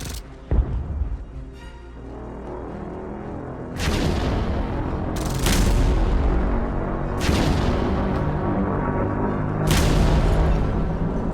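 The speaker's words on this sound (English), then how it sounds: "Airstrike!" In the War Thunder tank game, an airstrike sends four loud, booming explosions in succession, each with a sharp onset and a long rumbling tail, layered over a continuous engine drone.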